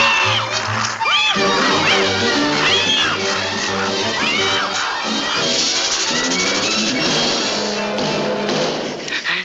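A cartoon kitten meows repeatedly in a 1955 Looney Tunes short, its sliding cries rising and falling over music, with a few taps and thuds mixed in.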